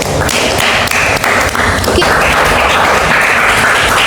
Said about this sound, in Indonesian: kita kasih tepuk tangan untuk Agung dan Emre Valdo.